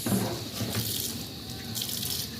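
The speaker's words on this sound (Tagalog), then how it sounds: "hugasan natin ang apple guys" An apple is washed under a running kitchen tap, giving a steady, close rush and splash of water throughout with no voices.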